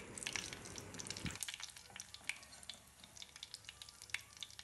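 Mustard seeds pop and splutter in hot coconut oil in a pan, a dense steady sizzle with many sharp crackling bursts scattered throughout, close and fairly loud, with no voices.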